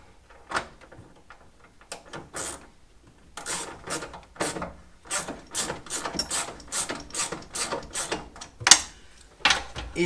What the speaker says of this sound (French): il ne nous reste plus qu'à remettre les 4 vis de fixation du siège